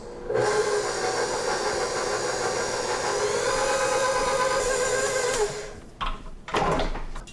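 A red stand mixer fitted with a dough hook kneads pizza dough, its motor giving a steady, close whirring hum for about five seconds before stopping, followed by a few short knocks and clatters.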